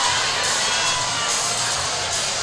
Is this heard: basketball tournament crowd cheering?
yes